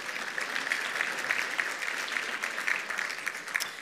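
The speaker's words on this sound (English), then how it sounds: "You need to give yourself a round of applause just for getting up and being here this morning." An audience at a mayor's breakfast event applauds, a dense, even wash of clapping from a large crowd held steadily throughout, with no talk over it.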